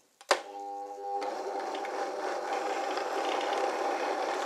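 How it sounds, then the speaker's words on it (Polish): A countertop blender with its lid sealed, set to hot mode, purees a horseradish cream soup: a sharp click, then a loud, steady, close whirring roar that builds and holds. "Włączam blender, wstawiam go w tryb miksowania gorących rzeczy"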